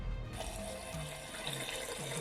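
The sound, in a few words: washing rice in water for jollof rice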